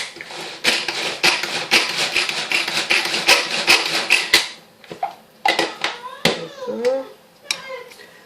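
Knife chopping chili pepper on a cutting board in a home kitchen, a quick run of close, sharp taps followed by sparser scattered cuts.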